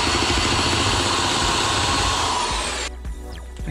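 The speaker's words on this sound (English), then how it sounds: "I'm gonna use my drill to drill a pilot hole through that bracket hole." Loud whirring of a power drill boring a pilot hole through a metal bracket hole while installing a dishwasher, running steadily, then stopping abruptly near the end, followed by a few faint clicks and handling noises.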